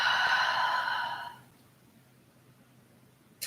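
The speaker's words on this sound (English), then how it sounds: "Open the mouth, exhale." A long, audible breath pushed out through an open mouth during a yoga flow, lasting over a second before fading to quiet, with a brief sharp noise at the very end.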